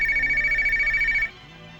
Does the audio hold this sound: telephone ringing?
yes